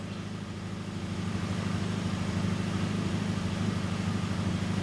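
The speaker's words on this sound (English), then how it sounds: "I've got the vehicle running." A 2006 Nissan X-Trail engine idling steadily, a close low hum and even mechanical drone rising slightly at first, then holding constant with no talk.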